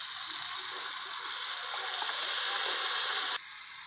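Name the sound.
water poured into pan of browned onions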